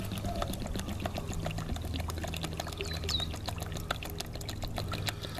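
Household white vinegar pours steadily from a bottle, a continuous close liquid stream with small splashes and trickles throughout, no talking.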